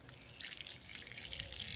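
Water splashes and trickles onto a potted houseplant in a steady, soft pour lasting a couple of seconds, close and fairly quiet.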